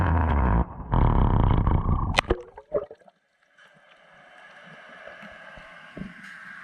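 A camera submerged in water picks up a loud, muffled rush that cuts off abruptly, followed by a few sharp knocks and then a faint, steady bubbling underwater murmur.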